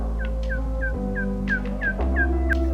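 A wild turkey gobbles in a rapid series of short, rising calls, fairly distinct over a steady low engine-like rumble, outdoors in the South Dakota hills during a turkey hunt.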